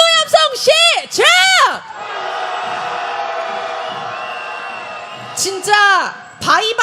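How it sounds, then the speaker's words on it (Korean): A street protest crowd at a candlelight march in Hongdae roars in angry unison, a sustained mass shout rising between loud individual yells and chants near the start and end. "김건희를 향해서 분노의 함성 시작"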